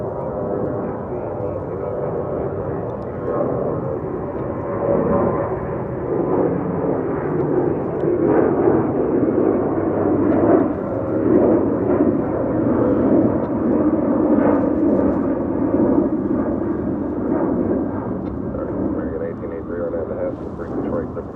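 Jet airliners departing DFW airport roar steadily from a distance, a broad continuous rumble that swells and lingers for the whole span, with a person talking over it.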